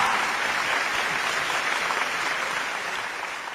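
An audience at a mushaira poetry gathering in Dubai claps loudly in a dense, continuous burst that holds steady before tapering slightly at the end.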